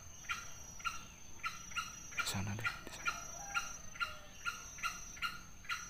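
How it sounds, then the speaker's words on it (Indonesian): A wild green junglefowl, likely a male, gives a brief crowing call in the middle, faint and distant, over a steady rhythmic chorus of insects and a quick spoken remark. "Itu ada suaranya lagi kawan. Suara ayam hutan."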